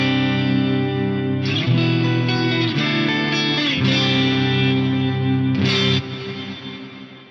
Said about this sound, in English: But that does give you a really kind of cool, dark ambient reverb.